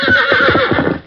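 Fiery three-year-old stallion in a radio drama lets out a loud, close neigh and whinny, a quavering rising-and-falling cry lasting about a second.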